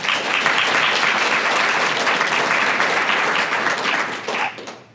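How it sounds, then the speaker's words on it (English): A conference audience applauds the organizers at Thunder Plains 2015, a dense, even wash of clapping from a large room that holds steady and then fades out near the end. "can I get a round of applause for the wonderful organizers of this lovely"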